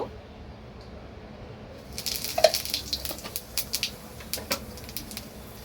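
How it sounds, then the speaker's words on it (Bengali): Cumin seeds dropped into hot oil left from frying parshe fish start to sizzle after a quiet moment, a close crackle of sharp pops and spits that builds and keeps sputtering irregularly. "এবার আমি মাছের তেল আমি এবার এই মাছের তেলে একটু জিরে ফোড়ন দেব"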